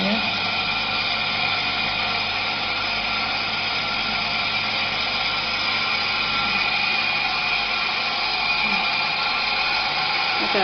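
Pump G1 in a flow-rate control setup, switched on and running as a steady broadband whirring hum with constant loudness throughout, no talk over it.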